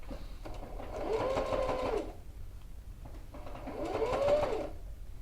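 A sewing machine stitches piping for a quilted coat, using a zipper foot as a guide. Two steady bursts of rapid mechanical running, each lasting about a second, are separated by a short pause, close and clear with no talking.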